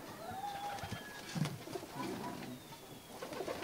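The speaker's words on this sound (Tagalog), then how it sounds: "And dito sa kabila is yung mga kalapate natin." Racing pigeons kept in a backyard loft coo softly and repeatedly nearby, low murmuring calls recurring through the moment with faint bird chirps above and no talking.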